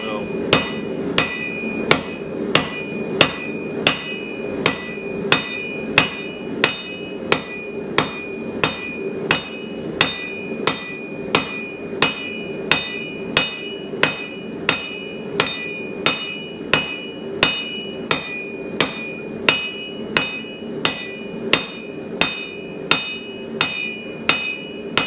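Hot steel bar stock being hand forged to a dull point takes steady, evenly spaced hammer blows, each a bright ringing clang, repeated dozens of times at a brisk, regular rhythm.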